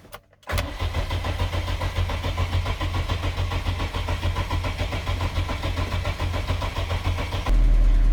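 After a moment of near-silence, an already warmed-up car engine fitted with second-generation LPG gas equipment cranks and catches, then settles into a steady, loud idle that continues to the end.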